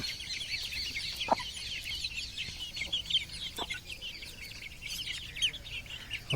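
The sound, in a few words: chickens clucking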